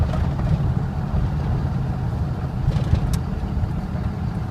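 A lifted 2000 Dodge Ram diesel 4x4 pickup with a manual transmission running, a steady low rumbling engine drone heard from inside the cab, continuous and fairly loud with no talking.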